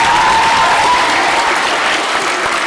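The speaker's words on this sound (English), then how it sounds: "Let's give all the speakers so far a round of applause." A debate audience applauds the speakers with dense, loud, sustained clapping from a crowd, steady throughout and tapering only slightly at the end.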